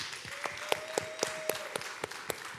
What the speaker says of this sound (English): could you please give a round of applause for our panelists?